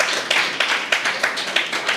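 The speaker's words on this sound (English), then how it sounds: "give your family a round of applause for their support" A small audience at a course ceremony gives a round of applause, a brisk burst of close, dense hand clapping with steady rhythm and no voices over it.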